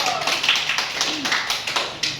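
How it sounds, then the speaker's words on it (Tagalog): Crowd of people applauding at a community gathering in the Philippines, dense steady clapping close by with voices mixed underneath. "Bigyan natin ng palakpak si Ato"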